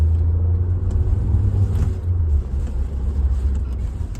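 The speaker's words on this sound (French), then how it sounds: "je vais accélérer un peu, pas trop non plus. On reste en agglomération, on s'écoute le moteur ensemble." A Nissan Qashqai Black Edition with a 1.6 dCi 130 hp diesel engine accelerates gently in town, a loud, close, steady low engine drone and rumble inside the cabin, with no talking.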